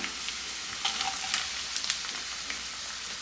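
Garlic and onion fry in a pan on a low flame for garlic rice, a close, steady crackling sizzle with small pops and a few stirring scrapes throughout.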